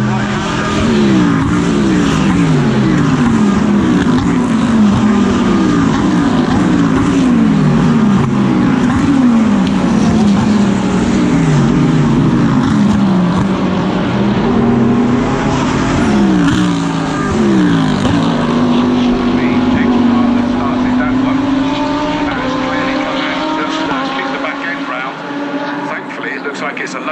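GT race cars in the GT World Challenge race at Brands Hatch roar down the back straight, several engines blaring continuously with rising and falling pitch as gears shift, close and loud with commentary running over them.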